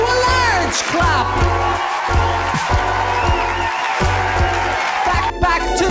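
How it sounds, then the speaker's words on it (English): Canned applause and crowd cheering swell to a large, steady roar over a thumping hip-hop beat. It plays continuously at full level, with faint voices mixed in. "Bring it up to a large clap"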